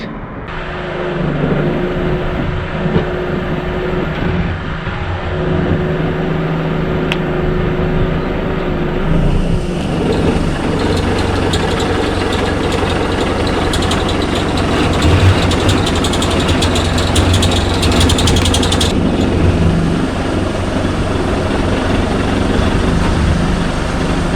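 A Mercedes W203 engine idles and revs steadily at close range as the car drives up onto ramps, with a low rumble that continues throughout and occasional shifts in pitch and loudness.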